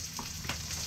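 Chopped onions sizzle as they go into a hot pan with garlic for chicken wing adobo, a brief, steady frying hiss with a faint clatter.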